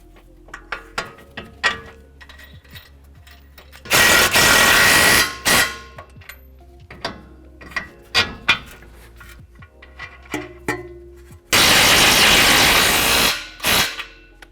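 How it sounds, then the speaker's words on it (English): Hand ratchet snugging the axle nut on a 2021-2023 Ford F-150 front suspension during a Fox coilover leveling kit install, heard as scattered sharp clicks at close range with two bursts of louder, denser ratcheting in between. "You really only need to hand tighten it with a ratchet."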